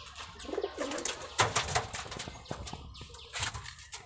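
Pigeons coo softly amid a busy outdoor mix of rustling and scattered clatter, with occasional sharper knocks and bird calls nearby.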